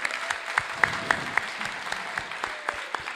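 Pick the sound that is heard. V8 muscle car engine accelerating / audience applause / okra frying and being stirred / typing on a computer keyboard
audience applause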